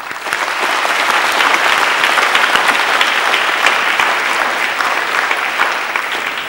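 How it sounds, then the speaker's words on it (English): Graduation ceremony audience giving loud, sustained applause, a dense steady wash of many hands clapping for several seconds with no speech over it. "please join me in thanking them and giving them a round of applause."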